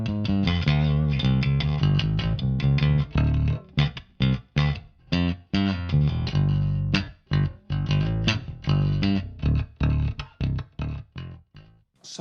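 Jazz bass played through a GK Legend preamp, pickup blend set toward the neck with a touch of bridge bite: a steady run of loud, punchy plucked notes with brief gaps between phrases, heard alone.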